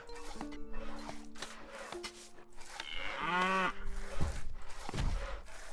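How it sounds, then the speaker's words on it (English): Cattle in the video game Stronghold Definitive Edition moo loudly, with one long drawn-out moo in the middle standing out over a busy game soundscape of background effects. "I apologize if y'all don't, if the cow sounds are annoying"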